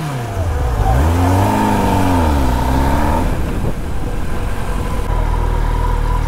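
A Kawasaki ZX-10R motorcycle engine revs loudly up and down close by, then pulls away with a sustained roar as it rides off.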